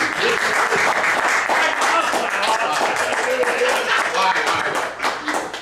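A lively round of audience applause follows a staged debate, dense and loud clapping filling the room throughout, easing slightly near the end.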